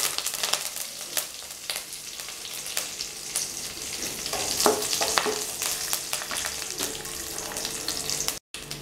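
Mustard seeds and curry leaves hit hot oil in a pan for chana sundal, crackling and sizzling steadily with frequent sharp pops and spatters close by.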